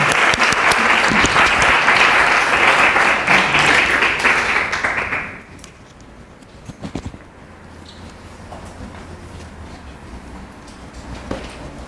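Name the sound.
audience applause welcoming a speaker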